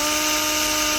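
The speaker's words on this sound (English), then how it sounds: "Then just get your 5mm drill bit and drill the holes." A power drill with a 5mm bit bores holes into the metal of a sliding door while fitting a lock set, a steady high-pitched whine held close and loud without a break.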